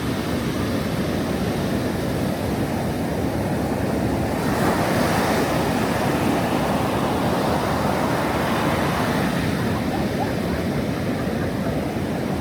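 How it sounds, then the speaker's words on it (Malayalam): Rough monsoon sea surf crashing steadily onto a beach at Vadanappally near Thrissur, a loud continuous roar of breaking waves with wind buffeting the microphone, no voices. "കടൽ നല്ല രൗദ്രഭാവത്തിൽ അങ്ങനെ ആർത്തലയ്ക്കുന്നുണ്ട്."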